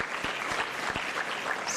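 Audience applause for panelists at a renewable energy conference and expo, a dense, even roar of many hands clapping at once, sustained and fairly loud, with no voices.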